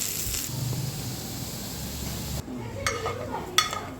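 Hot mustard-seed tempering sizzles and hisses as it is poured into a pressure cooker of jackfruit, then the noise drops to spoon scrapes and light clinks while the mixture is stirred.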